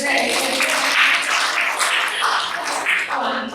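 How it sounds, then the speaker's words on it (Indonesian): An audience at an education event claps briefly, a short burst of applause mixed with voices talking over it. "Wes tepuk tangan."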